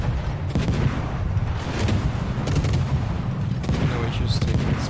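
Warship guns boom repeatedly in a naval battle video game, several heavy blasts spaced a second or so apart over a constant rumbling background.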